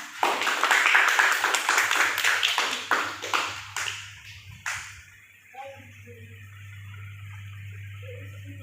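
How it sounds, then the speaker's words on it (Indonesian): A classroom audience claps for a participant in a burst of loud, rapid applause that tapers off into a few scattered claps, followed by a low steady hum. "Kasih tepuk tangan buat Farah."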